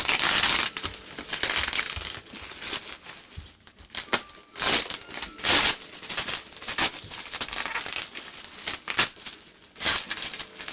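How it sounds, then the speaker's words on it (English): Cardboard and plastic packaging around a Trick Or Treat Studios Michael Myers mask is cut and torn open, giving close, irregular crunching, crinkling and snipping sounds with no talk. "I want to just slice it open, but I don't want to cut the mask."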